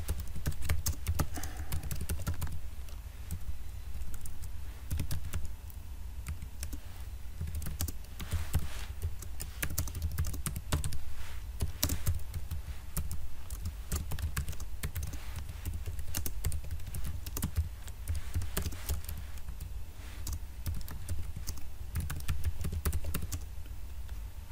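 Steady, rapid typing on a computer keyboard while entering HTML text, a dense run of close clicks and clacks lasting throughout with no talking.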